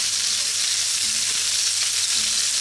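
Onions frying in a pan for a Filipino pork liver and onion bistek, a loud, steady, close sizzle of hot oil that runs unbroken, with faint stirring underneath.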